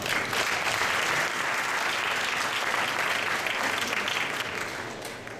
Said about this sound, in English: Clap again for them again.